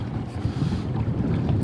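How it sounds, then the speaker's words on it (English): Blustery wind buffets the microphone beside a lake, a dense, low rumble, loud and constant throughout the short stretch. "It's windy, chilly."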